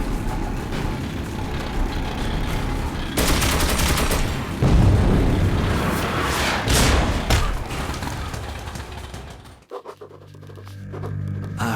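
Sustained gunfire in a Metro 2033 firefight against Nazi rail trolleys, dense bursts and booming thumps running loud and continuous for most of the stretch before cutting to a quieter, tonal end.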